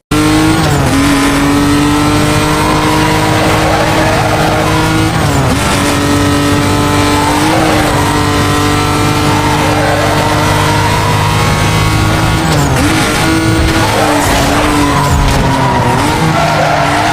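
In Need for Speed Most Wanted, a BMW E46 carrying the Junkman engine revs loudly and repeatedly, rising and dropping with several gear shifts while tires skid and squeal throughout.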